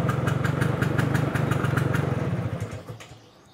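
An old, unmodified Vespa scooter engine idles close by with a steady, even putter, then is shut off and the sound dies away.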